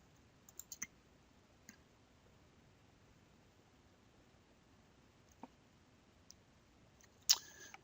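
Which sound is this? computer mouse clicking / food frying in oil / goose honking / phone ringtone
computer mouse clicking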